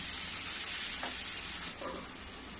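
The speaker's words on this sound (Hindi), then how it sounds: "धीमी गैस में ही मैं तड़का लगा रही हूँ" Spices sizzle steadily in hot oil, tempered over a low gas flame for a potato and Malabar spinach stir-fry, making a loud, continuous close frying hiss with faint stirring, and no talk.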